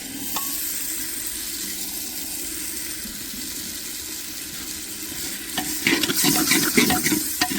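Mushrooms tipped into peas frying in a pan on a stove sizzle steadily up close, with scraping stirring clatter growing busier near the end and no voices.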